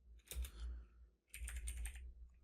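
Quiet keyboard typing of a git commit message in a command-line tutorial, two short bursts of rapid clustered keystrokes separated by a brief pause, close and alone.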